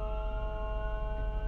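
Ambulance siren in street traffic, a steady loud wailing tone with a rumble of traffic underneath, sustained throughout.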